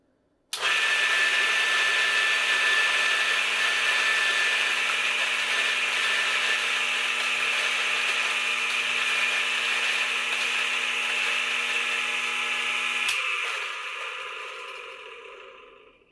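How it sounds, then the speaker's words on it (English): A coffee grinder grinds espresso beans as a loud, steady whirring drone with a close, gritty texture. It runs for about twelve seconds, shifts pitch as the beans run out, then spins down and fades. "You can typically hear once the beans are finished grinding"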